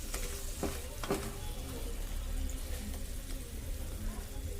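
Pepper chicken stirred in a pan, a steady low sizzle with a couple of soft scraping stirs near the start, close and moderately quiet throughout.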